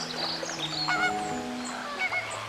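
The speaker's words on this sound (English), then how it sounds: "The birds flock here to escape the winter season" A flock of migratory birds wintering at Mannar, Sri Lanka, calling in a dense overlapping chorus of honking, goose-like cries, moderately loud and continuous with no talk.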